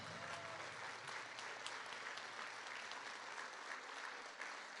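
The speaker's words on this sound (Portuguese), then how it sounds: "aplauda ao Senhor" Church congregation applauding in worship, sustained steady clapping from many people heard from a moderate distance, fairly quiet overall.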